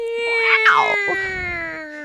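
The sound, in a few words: cat meowing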